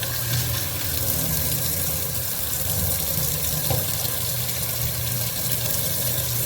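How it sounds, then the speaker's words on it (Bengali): Mushrooms rinsed under a running kitchen tap into a sink, a steady close hiss of flowing water with a low hum beneath, continuous and without talk. "মাশরুমটা একটু ভালো করে ধুয়ে নিই"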